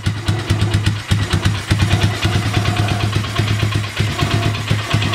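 A Polaris Sportsman ATV engine idles roughly and runs rich, a loud, close, uneven rapid chugging with occasional stumbles and no voices.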